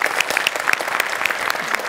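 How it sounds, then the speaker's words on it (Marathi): An audience in a comedy show studio gives enthusiastic applause, a dense, lively clatter of clapping with a few sharp whistles and cheers on top. "जोरदार टाळ्या तिच्यासाठी"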